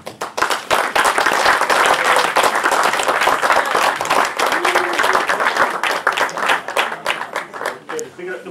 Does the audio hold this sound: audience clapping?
yes